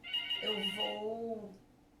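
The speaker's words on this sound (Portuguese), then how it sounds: "De repente, toca o telefone fixo e não tem como você desvincular isso" A landline telephone rings indoors at home, a steady electronic tone with harmonic bands lasting over a second, while a person talks over it.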